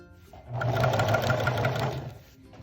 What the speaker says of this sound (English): Start with our back stitch, then forward stitch,